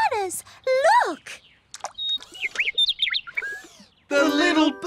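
A little cartoon bird chirping in rising and falling tweets and warbles, interleaved with animated character voices and ending on a brief musical sting.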